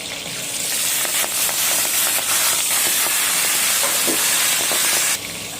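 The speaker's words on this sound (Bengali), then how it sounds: "এবারে আমি পুঁই শাকটাকেও ভালো করে ভেজে নেব" Loud, steady frying hiss and crackle of Malabar spinach in a pan, with scattered pops and stirring scrapes throughout, dropping off sharply near the end.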